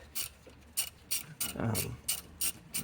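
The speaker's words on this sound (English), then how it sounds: "I'm going to take and remove these 2 number 16s bolts" A ratchet removing bolts on a Dodge Grand Caravan during a starter replacement: repeated short bursts of clicking pawl ratcheting in an even rhythm, close but fairly quiet.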